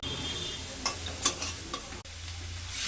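Lentil dumplings (bori) go into a pan of drumstick curry with jaggery. The oil sizzles steadily up close, with a few sharp ticks and pops as the pieces land and get stirred.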